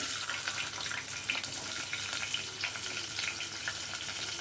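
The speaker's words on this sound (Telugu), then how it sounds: "ఆయిల్ వేసాను కదా, 2 యాలుక్కాయలు." Two cardamom pods sizzle in hot oil in a pan, giving a steady, dense crackling fry that is moderately loud and continuous throughout.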